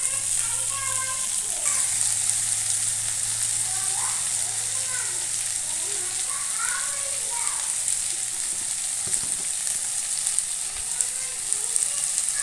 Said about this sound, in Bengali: পেঁয়াজটা ফ্রাই হয়ে গেছে প্রায়, তার মধ্যে আমি এবার দিয়ে দিয়েছি কাঁচা লঙ্কা আর দিয়ে দেব